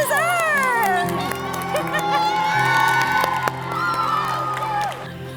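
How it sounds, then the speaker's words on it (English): A group of schoolgirls cheers loudly for a fourth-grade teacher, a close and sustained burst of shouts and whoops, with excited voices mixed in. "We wanted these girls to be here to cheer you on."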